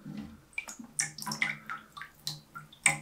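A coated glass shower door sample is dunked into water, making a string of short, close splashes and drips that come every half second or so.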